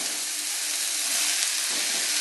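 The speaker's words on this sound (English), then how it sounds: "we're gonna fry off some mushrooms now" Fresh mushrooms fry in a hot pan for a risotto, giving a steady, close, loud sizzle with an even hiss that holds throughout, with no voices.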